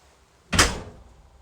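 The living-quarters door of a 2023 Logan Coach 814 Limited combo horse trailer shuts with a single solid thud close by, then quiet.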